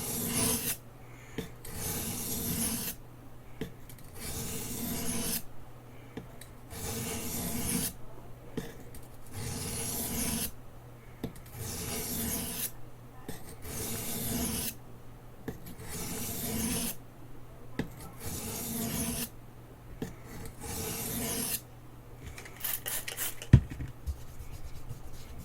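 A knife blade scrapes across the stone of a Baryonyx Arctic Fox sharpener in long, regular rasping strokes, about ten evenly spaced passes with short pauses between them, close and moderately quiet.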